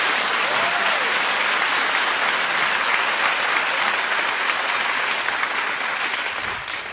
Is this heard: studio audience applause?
yes